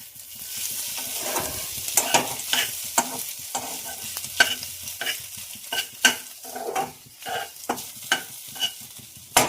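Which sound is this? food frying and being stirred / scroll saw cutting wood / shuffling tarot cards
food frying and being stirred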